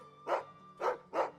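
A dog in the video game Final Fantasy XVI barks three times, short close woofs at uneven spacing over a faint steady game background hum.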